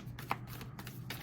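Soft, quick riffling of tarot cards being shuffled, a few brief papery bursts, quiet and close with no voices.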